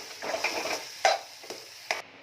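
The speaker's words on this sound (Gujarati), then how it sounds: "આ બધું હવે હું મિક્સ કરી લઉં છું" Spices, sugar and salt being mixed with a spoon in a bowl for bread pakora filling, several soft scrapes and clinks spaced unevenly, close and quiet with no speech.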